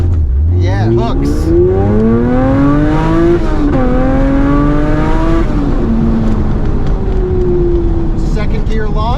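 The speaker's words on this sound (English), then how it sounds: "Second gear launch, no wheel spin, just, I think we popped a wheelie." A 500hp classic Mini launches hard in second gear, its engine roaring loudly as the pitch climbs steeply through the revs and then eases off, with a person talking over it.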